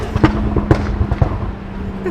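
A car's exhaust cracks out sharp pops while it cruises slowly through neighborhood streets near a supercar show in Utah, three or four loud, close bangs spaced about half a second apart over a steady low engine drone.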